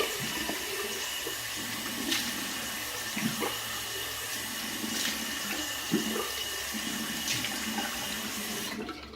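Cold water runs steadily from a bathroom tap into a sink after a shave, a continuous close splashing hiss with small gurgles that cuts off abruptly at the end; no one speaks.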